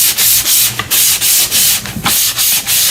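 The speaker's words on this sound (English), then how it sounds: "when I do a light sanding, here's what I do" Sandpaper rubs a painted cabinet in a light pre-painting sanding, loud and close, in regular back-and-forth strokes with short pauses between each pass and no talking.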